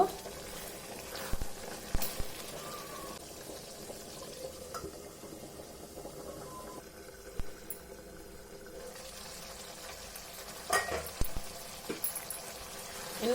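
Chicken masala frying and being stirred in a pan, a steady low sizzle with occasional scraping knocks from the spoon, heard at close range and fairly quiet throughout.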